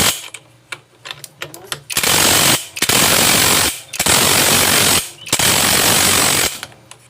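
A nut being tightened on a Kawasaki Barako 175 motorcycle engine with a pneumatic impact wrench, several loud rattling bursts of about a second each separated by short pauses, close by, after a few sharp clicks.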